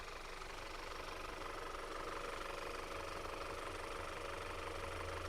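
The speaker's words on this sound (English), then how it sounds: "Vacuum leak on a 2-liter Volkswagen or Audi engine." A 2-liter Volkswagen or Audi engine with a vacuum leak idles with a steady hum, plus a continuous hissing, whistling tone across the upper range. The sound is close, even and unbroken, with no talking.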